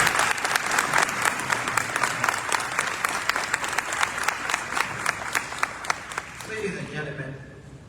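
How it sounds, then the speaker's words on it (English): A large audience at a veterans breakfast and hall of fame induction gives a general a sustained round of dense applause, steady and loud for several seconds before thinning out near the end. "I think we can give the General another round of applause"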